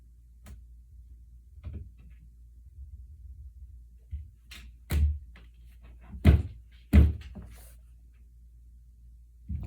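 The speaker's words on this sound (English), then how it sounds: "he sticks his paw under the door and tries to get in" A cat paws at a door: several soft thumps and scrapes, scattered irregularly and close by, with a few sharper knocks near the end in a quiet room.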